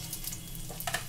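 Cumin seeds sizzle and crackle in hot oil with a bay leaf and broken dried red chillies, a steady close frying hiss with a few brighter pops near the end, no talking.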